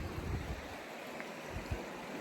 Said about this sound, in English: I'm taking a break here by this river, which is I think called Squaw Valley Creek